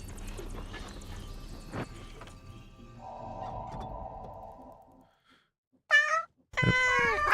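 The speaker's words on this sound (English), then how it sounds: "Gotta pet all the cats." In the video game Wartales, a cat gives two short, sharp meows near the end, after a stretch of ambient game sounds and a brief hush.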